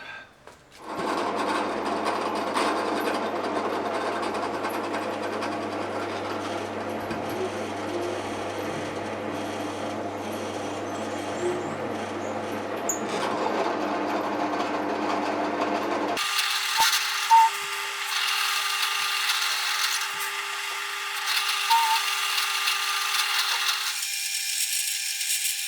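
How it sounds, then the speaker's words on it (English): A drill press with a Forstner bit bores tuner holes in a guitar headstock, giving a steady close mechanical whir and grind that runs continuously and shifts to a higher, thinner tone about two-thirds through. "This is where we're going to drill for our tuners."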